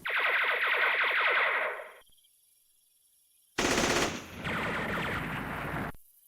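Troops fire on a village in the Vietnam war game Campaign Series Vietnam. A sustained burst of rapid machine-gun fire lasts about two seconds, then silence, then a louder second volley that runs on for a few seconds before cutting off.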